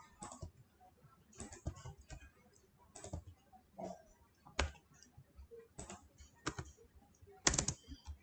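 Keys on a computer keyboard clatter in irregular bursts of quick typing with short pauses between, close and moderately loud, while code is written in Visual Studio Code for a Node.js app.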